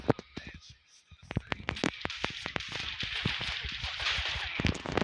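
Rapid bursts of video game gunfire crack repeatedly in quick succession, sharp and punchy, over a steady hiss of background noise with a voice talking.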